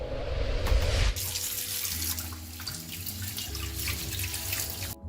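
Tap water runs steadily into a sink while fresh organic strawberries are washed under it, a close, continuous splashing stream that opens with a louder burst and flows on alone without talk.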